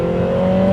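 Lotus Emira i4 turbo engine with a Milltek exhaust holding a loud, steady rev, a sustained throaty tone with no voices over it.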